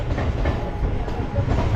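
A Mumbai local train passes at Kurla West, a loud, close rumble with steady rail clatter throughout, no talk over it.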